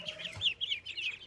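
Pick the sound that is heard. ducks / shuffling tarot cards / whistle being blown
ducks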